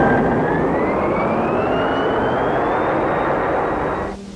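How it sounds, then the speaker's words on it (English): Cartoon spaceship landing generators power up with a loud, steady roaring hum and a rising whine that climbs over several seconds, then cuts off abruptly near the end. "Activate landing generators."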